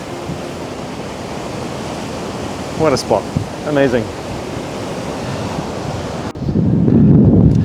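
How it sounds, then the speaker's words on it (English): Ocean waves rolling in on the Central Coast near Sydney at sunrise, a steady broad wash of surf with wind, rising to a louder close crash at the end, while someone briefly speaks. "Check out these waves coming in down here."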